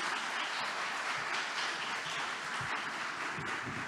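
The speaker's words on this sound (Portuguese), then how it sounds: "recebido com uma salva de palmas." A seminar audience applauds to welcome a speaker called to the stage, producing a dense, continuous patter of many hands that stays even and fairly close throughout.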